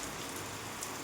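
Steady rain falling on surfaces in a village, a soft continuous patter heard briefly and fairly faintly.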